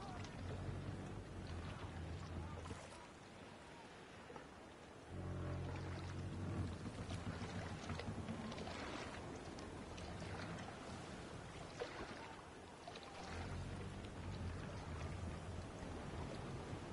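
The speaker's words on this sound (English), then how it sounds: "Raining arrows!" In a video game, a steady hiss of a dense arrow volley pours down continuously, like heavy rain, with louder surges and a low rumble underneath.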